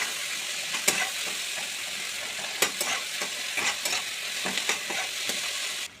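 Onion, garlic, tomato, potato and eggplant fry together in a wok for a fish curry, a steady close sizzle broken by sharp scraping stir strokes and occasional clinks of the spatula against the pan.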